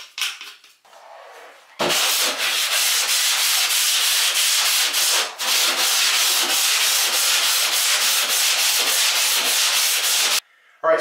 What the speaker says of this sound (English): now I'm using a fine grit sanding sponge just to kind of smooth out the scratches